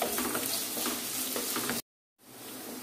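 Onions and green chillies sautéing with salt in a pan for kadala soya chunk curry, a close, even sizzle with light stirring that cuts out abruptly, then resumes more quietly.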